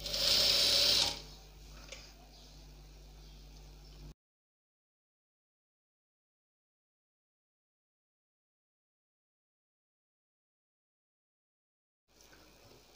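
A sewing machine stitches gota trim onto a kurti sleeve, a loud brief whirring burst at the start that drops to a low running hum, then goes silent before faint sound returns at the end.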